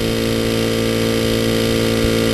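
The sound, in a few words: air compressor powering a horse dental float tool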